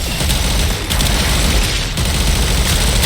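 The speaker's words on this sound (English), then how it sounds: "The Mausolon is a very useful arc gun slash mech gun." The Mausolon arc gun on a Voidrig mech in Warframe fires in a sustained, heavy barrage, dense booming bursts with only brief dips, loud and close throughout.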